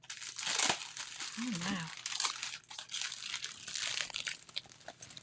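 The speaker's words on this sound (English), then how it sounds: "We have some fun crinkly stuff here. Look, we're going to open it up." Crinkly plastic packaging on a watercolor paint box is handled and opened up close, a busy run of crackling and rustling with a brief spoken exclamation partway through.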